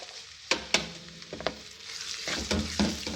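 Chopped onion added to frying chana dal in a pan, a close sizzle under a few sharp stirring clinks and scrapes, fairly quiet, with no talk.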